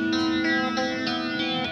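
Moog Minifooger flange pedal set to less modulation, a held instrument tone with a gentler, slower flanging sweep producing soft rhythmic whooshes, steady and close.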